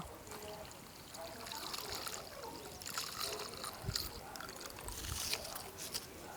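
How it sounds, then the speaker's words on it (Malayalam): Home-made coconut oil burn remedy poured from a vessel through a cloth into a pot, giving a steady low trickle and splash with faint handling noise close by. "ഒരു പാത്രത്തിൽ നല്ലൊരു തുണി വെച്ചു കൊടുക്കട്ടെ നമ്മൾ ഒഴിക്കട്ടോ"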